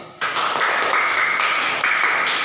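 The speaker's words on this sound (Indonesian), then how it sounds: "Kita berikan tepuk tangan untuk kelompok 2" A room of people applauds for a presenting group, with dense, steady clapping that runs loud and even throughout.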